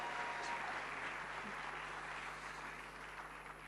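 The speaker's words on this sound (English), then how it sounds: "let's give a bigger round of applause to them" Faint, distant crowd applause washes steadily through a large hall at the national launch event for the Cedi @60 anniversary, slowly fading, with a low electrical hum beneath and no speech.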